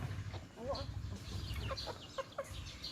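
Bantam chickens feeding on termites cluck in a run of short, close calls and soft chirps, scattered over a low background hum, with a faint human voice now and then.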